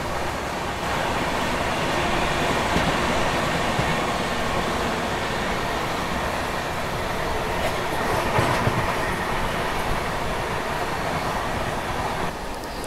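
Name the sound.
New Delhi Ranchi Rajdhani Express train passing through Shikohabad Junction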